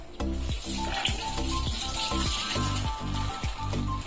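Peanuts roast in hot oil in a kadhai, a continuous sizzle and hiss broken by repeated scraping and stirring strokes at a steady rhythm, heard close up.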